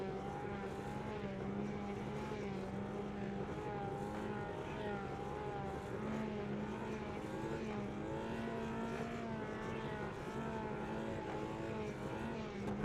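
Formula 3 race car engines warm up on the grid ahead of a race, a sustained droning hum with wavering pitch that holds steady and moderately loud throughout.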